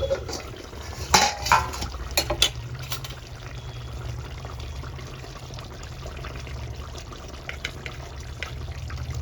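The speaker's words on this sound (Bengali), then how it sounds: "রান্নাটা চাপা দিয়ে দিচ্ছি চাপাটা খুলে নিচ্ছি" A lid comes off a pot of rohu fish cooking on the stove with a few sharp metallic clinks and clatters, followed by a low steady simmering bubble beneath.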